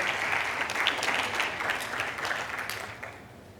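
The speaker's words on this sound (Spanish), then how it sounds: "Un aplauso para él también." Applause rises from the audience at an insurtech convention panel for the chair of the Colombian insurtech association, a dense, lively round of clapping that holds steady and then tapers off toward the end.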